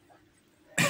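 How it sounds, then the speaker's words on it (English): A man's single short, loud cough bursts out at the end, following a quiet stretch of faint room murmur. "Ooh. He coughed."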